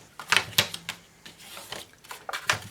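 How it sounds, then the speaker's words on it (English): Bone folder pressed along folded card paper for a floral birthday card, giving a run of sharp, close scraping and tapping strokes in an uneven rhythm, with no talking. "Then we'll go in there with our bone folder and give it a crisp edge on it."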